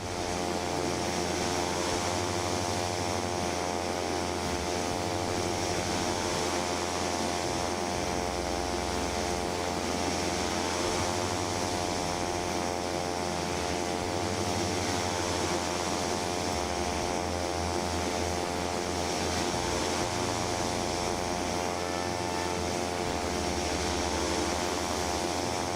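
Steady propeller drone of a Black Square Caravan Pro turboprop in Microsoft Flight Simulator 2024, flying near Sicily, a continuous loud engine hum with low pulsing throughout and no talking.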